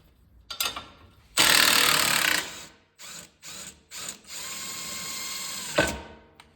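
An impact or power tool loosens the lower 18 mm strut bolts on a Dodge Journey in short, sharp bursts of whirring and rattling: a longer burst, then several quick ones, then a steadier run that stops abruptly, with quiet gaps between.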